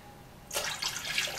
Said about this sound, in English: is I fill an ultrasonic cleaner with water